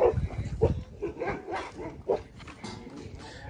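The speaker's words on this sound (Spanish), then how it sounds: "Es el trabajo de los perros." Dogs barking on a dairy farm where cows are being milked by hand: several short, rough barks at irregular intervals over a busy background of animal and farmyard noise.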